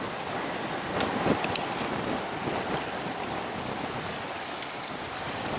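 Wind sweeping through the Yakima River Canyon in Washington, a steady rushing blow that buffets the microphone at a low, even level with a few faint gusts and no talking.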